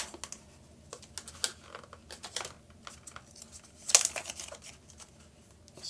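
Protective plastic film is peeled off a Google Home Hub in Aqua, giving a close run of crackling, crinkling and tearing noises with one louder rip near the middle, no voices.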